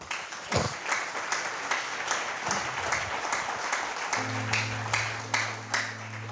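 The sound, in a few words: congregation applause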